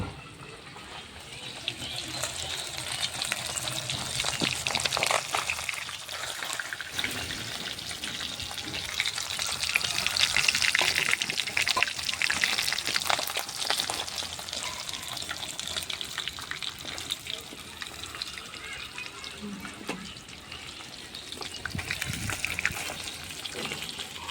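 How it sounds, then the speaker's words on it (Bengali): Pangas fish frying in a pan gives a steady, hissing sizzle that swells and eases over about twenty-five seconds, close by and with no talk over it. "পাঙাশ মাছগুলো বেশি ভাজার দরকার নেই, একটু একটু ভাজলেই হয়ে যাবে"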